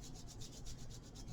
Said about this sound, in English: Rub some heat into the hands.